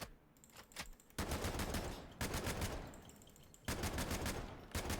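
A Mark 20 select-fire rifle fires in the Delta Force video game, with several sustained bursts of rapid automatic gunfire separated by short pauses, loud and close with no talking.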